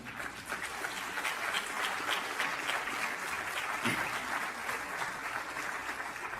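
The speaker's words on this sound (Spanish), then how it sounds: "Denle un aplauso al Señor." A church congregation applauds steadily throughout, a dense continuous clatter of many hands clapping at moderate distance, with no speech over it.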